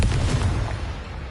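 A Confringo spell explosion in Hogwarts Legacy: one loud, deep boom that hits at once and rumbles away over about a second, with no voices.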